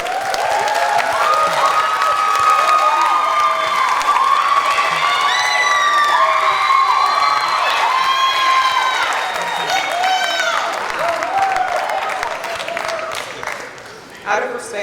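Graduation ceremony crowd at a Texas high school applauding steadily with cheers and whoops rising over the clapping, loud and sustained throughout before thinning slightly near the end.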